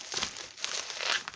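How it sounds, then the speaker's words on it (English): Bubble wrap packaging being cut away and handled during a thrift unboxing, giving quick close crinkles and rustling bursts with a faint tearing edge over a moment, no talk. "I'm just going to cut away some of that bubble there."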